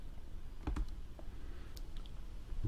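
A few scattered clicks of typing on a computer keyboard, quiet and close, with short pauses between small bursts of keystrokes.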